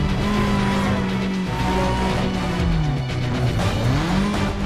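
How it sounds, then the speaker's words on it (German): A car in Need for Speed Most Wanted speeds away during a police chase, its engine droning loudly and steadily with pitch sweeps as it revs and shifts, tires squealing now and then throughout. "Das Fahrzeug zieht davon."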